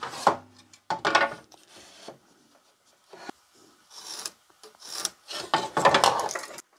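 A pencil or scribe is drawn across a board of reclaimed timber while making shed doors, giving several short scratchy strokes with pauses between them, close and fairly quiet.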